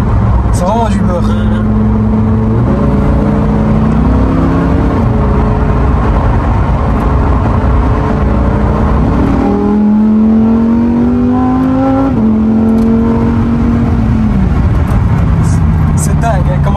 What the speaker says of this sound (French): Est-ce que tu sens comment la boîte elle change son?